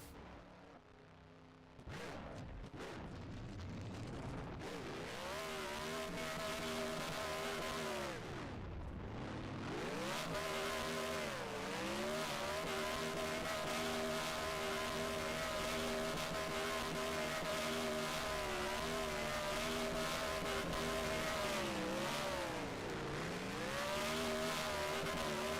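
A race car doing a burnout in front of the fans at Canadian Tire Motorsport Park, Mosport: a loud, sustained engine roar revving and holding high, with surges and dips, heard close and steady for about twenty seconds.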